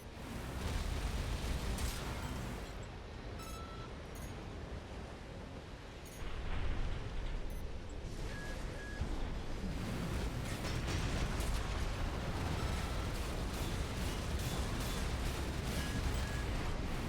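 Heavy gunfire and blasts from mechs in the video game Armored Core 6 roar in a dense, loud, continuous barrage with rumbling booms that never let up.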